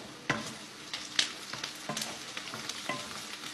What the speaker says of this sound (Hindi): इसमें हम डालेंगे 20 ग्राम मक्खन